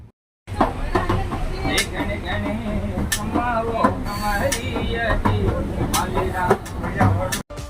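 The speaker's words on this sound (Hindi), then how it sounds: "Marwar Lohawat railway station crossing है। क्रॉस कर रही है हमारी ट्रेन।" A Desert Express passenger train rolls through Marwar Lohawat railway station in Rajasthan, heard from inside as a steady, loud rumble with rhythmic clatter and sharp metallic clicks, with voices and other noise mixed in.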